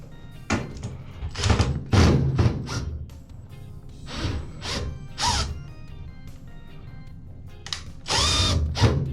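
A power drill drives a screw into a Maytag washer's door switch in short, repeated bursts of whirring, with brief pauses between pulls of the trigger, close and fairly loud.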